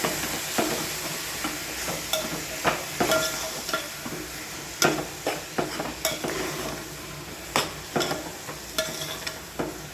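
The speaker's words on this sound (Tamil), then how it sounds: "அந்த காளானை போட்டு கிளறி விட்டுடலாம்." Mushrooms stirred into a sizzling mushroom biryani mixture in a pan, with a steady frying sizzle and a run of sharp spoon scrapes and clinks against the pot, close by and with no talking.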